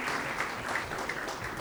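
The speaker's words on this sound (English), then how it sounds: "let us clap for Ronit Chopra wherever he is." An audience at a postgraduate diploma convocation ceremony claps briefly, a soft, fairly distant patter of many hands with no voices over it.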